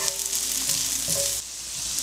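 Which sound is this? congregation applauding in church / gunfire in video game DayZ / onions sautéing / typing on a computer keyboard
onions sautéing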